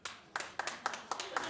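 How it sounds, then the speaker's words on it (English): A small studio audience claps in a quick, faint burst of about seven distinct sharp claps, evenly spaced and thin rather than a full ovation. "Clap if you'd read the Teresa book."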